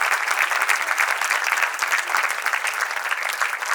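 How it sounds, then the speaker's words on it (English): An audience at a Rangapravesha dance debut in Mumbai gives the musical ensemble a big round of applause, a loud, dense and continuous clatter of many hands. "let's congratulate this ensemble of expert musicians with a big round of applause"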